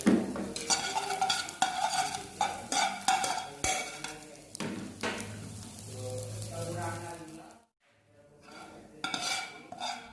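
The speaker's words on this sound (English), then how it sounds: "And then stirring the egg again." Egg being stirred in a pan while making simple fried rice, a busy run of scraping, clinking utensil strokes against the pan with a faint sizzle, pausing briefly near the end before resuming.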